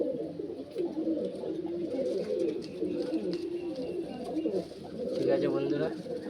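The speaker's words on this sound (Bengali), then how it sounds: "এই যে পায়রাগুলো দেখে না," Pigeons coo softly and steadily at close range, with a low continuous murmur from several birds, while people talk faintly in the background.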